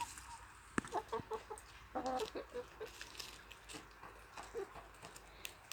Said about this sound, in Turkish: Bunlar hepsi de yumurta tavuğu